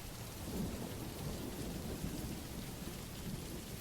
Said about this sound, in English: we needed something in the background, and rain was the easiest thing that I could find.